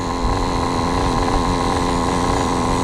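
A small high-pitched nitro engine in a Kyosho Inferno NEO 3.0 RC car idles steadily and loudly, a continuous buzzing drone with a slight rhythmic flutter, no voices.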